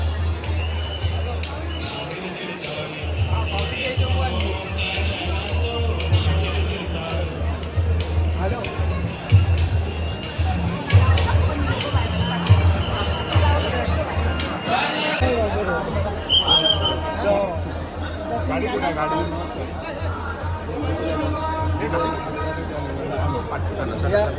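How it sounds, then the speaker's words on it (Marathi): A busy crowd at a temple fair (jatra) by the sea at Kunkeshwar temple in Konkan fills the scene with continuous chatter and hubbub, and many voices overlap near and far. "गर्दी बघू शकता"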